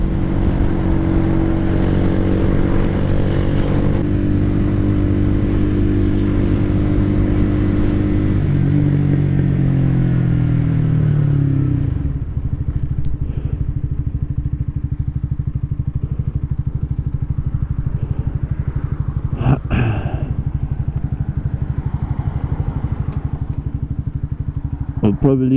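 A 2017 Honda CBR 125R motorcycle with about 15,000 miles runs loud and close, its steady single-cylinder drone dropping in pitch then settling to a lower hum, with brief clatters late on.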